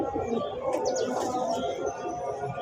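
Domestic pigeons bred by a Karachi pigeon fancier cooing softly at moderate distance, a low continuous murmur with a few faint chirps over steady background noise.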